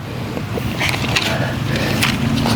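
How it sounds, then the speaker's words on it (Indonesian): Wind blowing at a campground, a steady rushing noise buffeting the microphone in uneven gusts, with no speech. "Mungkin kalau Ayah Bunda ada dengar suara berisik, itu suara angin Ayah Bunda"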